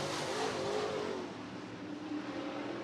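Late model race cars at Cottage Grove Speedway roar in a steady engine drone that fades slightly midway and then swells again, heard from a distance as a continuous mass of sound.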